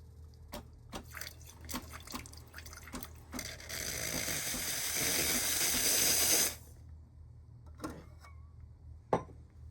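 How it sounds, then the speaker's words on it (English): A Casabrews 5418 Pro espresso machine steam wand purges water, hissing steadily for a few seconds, then cuts off, with scattered drips and clicks before and after. "I usually open the steam knob for a moment to purge out the water so the steam is drier"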